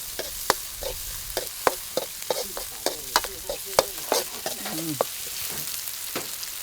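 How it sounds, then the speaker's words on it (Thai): Pork stir-fried in a pan sizzles steadily while a utensil scrapes and taps against the metal in quick, uneven strokes, loud and close with no voices. "ต้องพัดหมูให้มันสุกก่อน"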